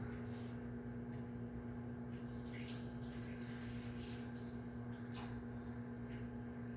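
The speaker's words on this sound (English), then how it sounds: "I need to drain the juices, the natural juices from my chicken and my broccoli" Chicken and broccoli juices drained into a kitchen sink, a faint trickle and splash over a steady electrical hum, with soft clatter of the dish.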